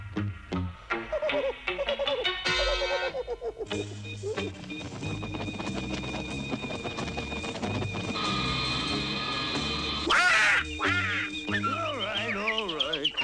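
Cartoon birds, crows among them, squawking, quacking and cawing in a busy, overlapping chorus, with jittery calls, sliding warbles and a sharp burst near the end.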